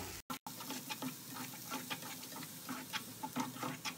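Onion and chilli paste frying over a medium flame in a pan, giving a steady close sizzle with repeated soft scraping strokes of a spoon throughout.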